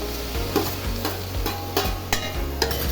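Ginger paste, potatoes and tomatoes sizzle in a frying pan while a spoon scrapes through them in repeated close strokes over a constant frying hiss.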